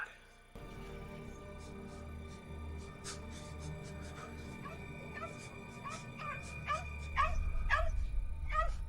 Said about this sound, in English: That dog looks like a little nightmare.